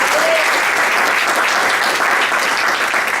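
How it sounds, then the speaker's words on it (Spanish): A church congregation breaks into dense, sustained applause, many hands clapping together at close range and holding steady throughout. "Yo le daría un aplauso al Rey."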